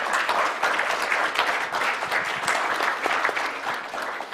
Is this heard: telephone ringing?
no